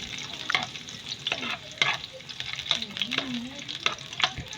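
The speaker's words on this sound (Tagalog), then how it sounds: "Gisa muna natin ang bawang at sibuyas." Garlic and onion sauté in a pan with a constant sizzle and occasional stirring scrapes. The sound is near and fairly loud, with no talk over it.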